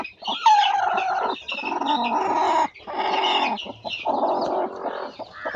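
Another hen brooding a clutch of eggs gives continuous, close, throaty clucking in several long phrases broken by short pauses.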